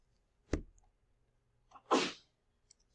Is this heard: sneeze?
yes